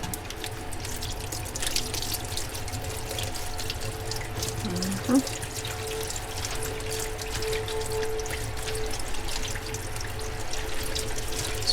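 Noodles being rinsed under a running kitchen tap, a steady stream of water splashing into a sink with a brief louder splash midway, continuous and fairly close.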